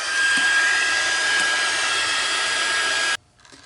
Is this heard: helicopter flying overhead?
no